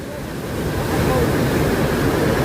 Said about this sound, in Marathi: तर हा पाण्याचा प्रवाह